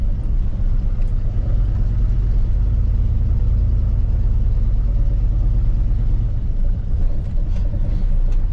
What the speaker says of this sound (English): Let the truck run here while I move everything out the way.